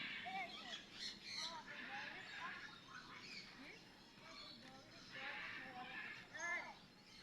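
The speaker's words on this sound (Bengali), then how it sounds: "আওয়াজ খুব সুন্দর লাগলো পাখিটা" A large bird gives repeated squawking calls in short bursts at moderate distance, faint against outdoor background noise, with people talking nearby.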